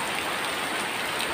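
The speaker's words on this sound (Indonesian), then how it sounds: "Kebetulan hujan sangat deras sekali ini di rumah Teteh." Heavy rain pours steadily near a house beside a cemetery, a dense, loud, continuous hiss with no break and no voices.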